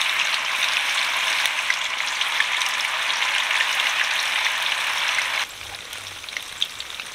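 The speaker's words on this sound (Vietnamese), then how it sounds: "Cái tàu hũ mình chiên trước á, rồi lát cái mấy cái kia mình chiên sau." Tofu fries in a pan outdoors in a rural field, making a steady close sizzle with light crackling that suddenly drops to a quieter hiss near the end.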